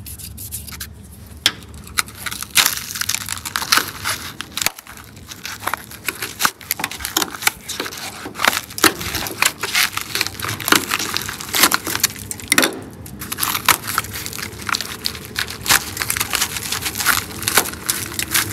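Rusty metal on a Porsche 914 under restoration crunches and crumbles, a dense run of irregular close crackling, snapping and grinding bursts that comes and goes, with no talking.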